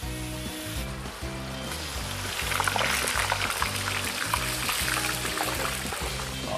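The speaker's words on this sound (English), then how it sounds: "Both woks are sizzling away." Two woks sizzle on high heat while Cantonese-style duck with pak choy cooks, a continuous bright frying hiss that grows louder partway through over a low, rhythmic background tone.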